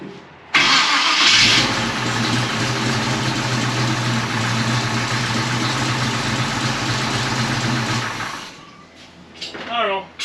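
A junk engine in a 1956 Chevy long-roof gasser cranks and fires, then holds a loud, steady idle for about eight seconds before shutting off, with a person talking faintly afterward.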